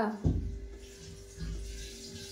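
Water sloshes inside a hollow metal gas cylinder in two brief surges, with a low rumbling swirl after each shake.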